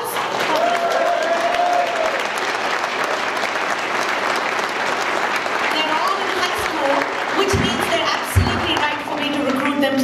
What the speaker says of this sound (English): could we have a big round of applause?